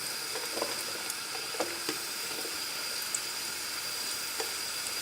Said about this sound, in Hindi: घी गर्म हो रहा है, इसमें हम प्याज बारीक कटे हुए 5 से 6 अदद शामिल करेंगे